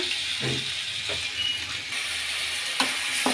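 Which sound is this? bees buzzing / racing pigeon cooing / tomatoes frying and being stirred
tomatoes frying and being stirred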